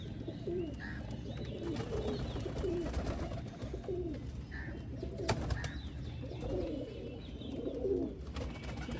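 Low, rolling coos repeat every second or two from loft pigeons at a Tarn Taran pigeon club in early winter, several birds overlapping in a continuous close-up murmur with no voices.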